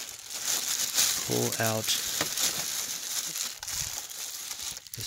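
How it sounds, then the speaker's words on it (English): Plastic wrapping, bunched up rather than taped, being pulled off the parts of a Bissell PowerLifter Swivel Lift-Off pet vacuum, a steady close crinkling and rustling that runs throughout, with someone speaking briefly over it. "we will undo this plastic. It's not taped up, it's just kind of bunched up"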